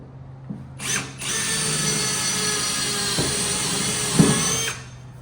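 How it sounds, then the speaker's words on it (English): A power drill whines steadily for several seconds while drilling a hole in a boat, a loud high-pitched grind with a brief bump as the bit bites, then spins down. "I'm just drilling a hole in here."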